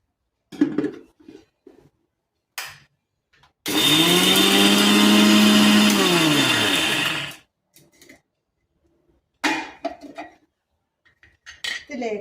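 A mixer grinder powders three spoonfuls of sugar for cream buns, running in one loud continuous burst of about four seconds with a whining pitch that rises and falls, framed by clinks and clatter of kitchen utensils before and after.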